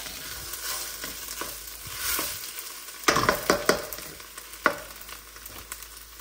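Alaskan king crab pieces are stirred while frying in a pan for chili crab, a constant sizzle broken by several sharp scraping, clattering strokes of a utensil near the middle and end, close up and without voices.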